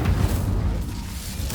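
An Incendio fire spell cast in Hogwarts Legacy gives a brief, heavy low whoosh and boom that fades quickly, with a short flare of noise at the end.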